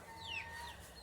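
Chicken clucking nearby, a few short calls over steady low background noise in a coop, with no talk.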